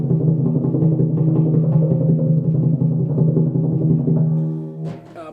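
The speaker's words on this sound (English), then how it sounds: "a normal roll on the timpani will more or less sound like this" Timpani roll played with single alternating strokes, a sustained booming drum tone with a dense even rumble of fast strokes, loud and close, fading out near the end before a brief final sound.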